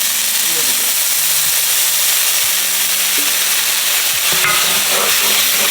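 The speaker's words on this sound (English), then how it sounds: "Gonna add our garlic and our ginger. I'm gonna deglaze it a little bit with some of that wine." Garlic and ginger frying in oil, deglazed with wine for beef and broccoli, a loud continuous sizzle and hiss with stirring scrapes and a short burst of steam near the end.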